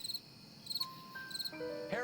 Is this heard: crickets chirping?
yes